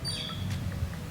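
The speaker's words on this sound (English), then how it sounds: "hear the birds chirping" A few high, thin bird chirps and a whistled call over a steady low outdoor hum, fairly faint and brief.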